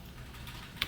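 A few quick computer keyboard keystrokes, faint clicks against a quiet background, with a couple of sharper taps at the end.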